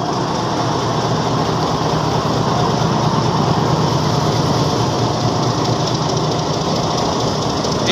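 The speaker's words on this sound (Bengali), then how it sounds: "এই ট্রেনটি হচ্ছে চিলমারি কমিউটার" The Chilmari Commuter train, hauled by locomotive 2405 on the Ramna Bazar to Kaunia Junction line, runs with a constant engine drone and rolling carriage noise, a steady dense roar that holds evenly throughout with no speech.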